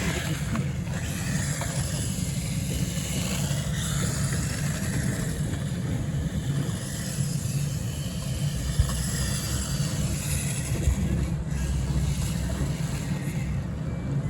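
A small beginner RC car with a 180 electric motor drives and switches between forward and reverse, its motor a continuous buzzing whir over a busy outdoor background, with no speech.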